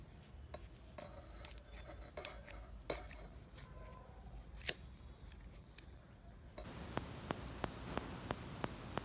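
Scissors snip yarn while a baby cap is being made. Short, crisp cuts come close and quiet, scattered at first and then in a quick, evenly spaced run over a soft hiss, with no talking.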